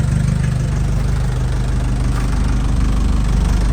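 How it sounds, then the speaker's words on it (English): Mk1 Ford Transit engine running roughly just after a fuel system overhaul, a steady loud low idle with an uneven, lumpy pulse throughout, no voices. "And it's running. Doesn't sound very happy, but it's running."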